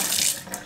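Water pours steadily from a newly installed kitchen tap into a sink, a continuous hissing flow heard close up with no talk over it.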